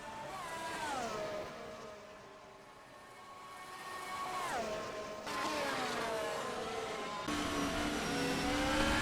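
Formula 1 cars in the F1 2020 racing game at the Tuscan Grand Prix, engines whining loud and close as several cars pass with rising and falling pitch sweeps, building louder toward the end.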